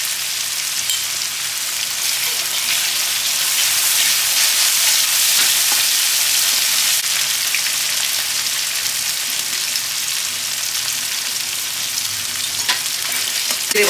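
Chili paste sizzling in hot oil for an Indian jackfruit and prawn curry, with a steady dense loud frying hiss throughout, occasional stirring scrapes, and no voices.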